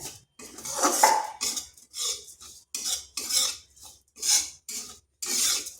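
Sugar stirred in a metal pan until it melts, with a spoon scraping and clinking against the pan in repeated rhythmic bursts, close and clear.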